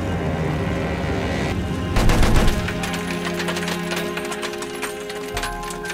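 Sustained gunfire in a Battlefield 1 match, a dense barrage of loud overlapping shots and booms that swells briefly, then continues as rattling bursts and ringing metallic tones.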